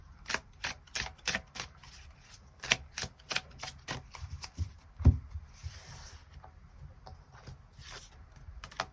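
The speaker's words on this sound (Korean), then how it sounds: "그럼 3번 분들은 추가 카드로 조언의 카드를 뽑아보도록 하겠습니다" Tarot cards being shuffled and drawn for a love reading, a run of crisp, close riffling snaps and soft slides in irregular bursts with no voice over them.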